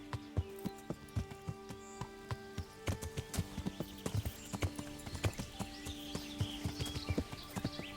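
Horse hooves clip-clop at a walking pace in the Kingdom Come: Deliverance video game, a steady run of close, crisp hoof strikes with a brief whinny and faint background ambience.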